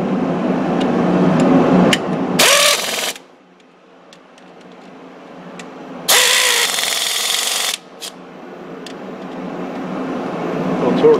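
Power tool running down and snugging the intercooler bracket bolts on a 2000 Ford F250 Powerstroke, heard as two loud, short bursts a few seconds apart over background shop noise.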